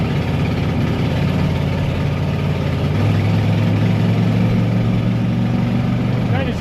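A 1996 Coachmen RV's 460 gas engine idles with an exhaust leak, giving a steady low chugging drone with a faint rising tone near the end, close and continuous throughout.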